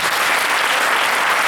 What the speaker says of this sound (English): now clap for everybody sharing.